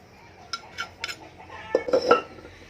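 Dry crushed eggshell fertilizer is tipped out of a mortar, giving a few light rattling clinks and scrapes that grow busier toward the end, close and fairly clear.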